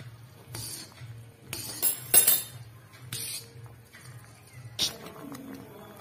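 Desi ghee stirred into hot jaggery syrup for peanut chikki, with a spoon scraping and clinking against the pan in several separate bursts over a low steady hum, close and clear with no talking.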